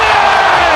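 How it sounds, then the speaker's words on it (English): Basketball arena crowd roaring and cheering, a dense, loud and sustained wall of many voices over a brief moment. "Oh, the crowd on their feet, that's what they came to see."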